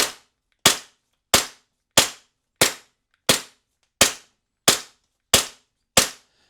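Ten sharp, evenly spaced shots from an airsoft gun fitted with an extended magazine ring out about every two-thirds of a second, each a crisp crack that fades quickly into silence.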